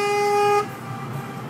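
A car horn blares in one loud, sustained honk, then cuts off, leaving the low rumble of traffic and a running vehicle.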